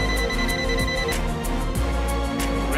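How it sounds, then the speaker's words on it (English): The non-contact voltage buzzer of an ANENG ST182 clamp meter beeps loudly in a steady rapid pulse, repeating several times a second without a break. "Buzzer sound when voltage is sensed."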